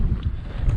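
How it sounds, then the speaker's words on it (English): Rough low-pitched wind buffeting against a microphone on Dartmoor, a steady rumbling roar with no other sounds. "It's bloody windy today."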